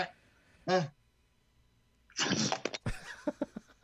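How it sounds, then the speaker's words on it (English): Several sneezes from a person, a short one followed by a burst of louder close sneezes and sharp exhalations, with no talking. "I'm sneezing a lot."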